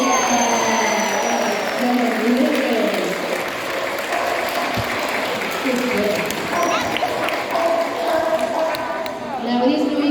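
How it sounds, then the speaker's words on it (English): Crowd applause at a safari park show fills the stretch, a broad steady patter of many hands with a few whoops and shouts above it, and a voice speaking briefly over the clapping. "you guys have got to give him a big round of applause"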